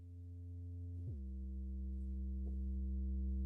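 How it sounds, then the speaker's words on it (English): A smooth, pure sine-wave bass synth plays slow sustained notes, shifting pitch a few times, gradually swelling in volume with no other sounds. "I think it's like a sine wave bass."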